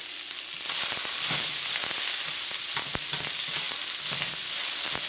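Broccoli, carrots and other vegetables sizzle in hot avocado oil in a stir-fry pan, a steady close frying hiss broken by crackles and spatters, with no voices.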